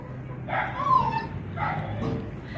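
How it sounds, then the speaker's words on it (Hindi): A shut-in puppy whimpering and yipping to be let out, two or three short high whines with small yelps, close by against quiet household background. "देखो पपी इतना तरस रहा है ना कि मुझे बाहर छोड़ो ताकि मैं सबके पाँव पे पड़ूं।"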